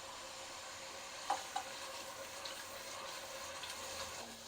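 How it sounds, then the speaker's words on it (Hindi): Garlic, ginger and onions fry in a pan for a potato and egg curry, giving a soft continuous sizzle with a few light stirring clinks, quiet and steady without talk. "लहसुन अदरक भी साथ में फ्राई करेंगे।"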